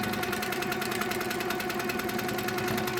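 A sewing machine runs continuously while quilting orange peel curves along a ruler, with a steady, even mechanical chatter and hum at close range.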